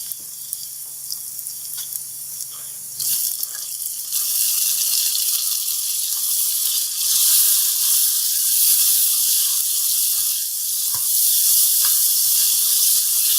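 Tomatoes frying in a pan, a steady close sizzle and hiss that grows louder and brighter partway through, with no talking.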